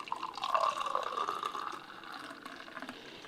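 Aloe vera mojito juice strained into a glass, a soft trickle and drip of liquid, close and quiet, fading over a few seconds.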